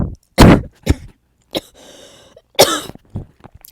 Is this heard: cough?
yes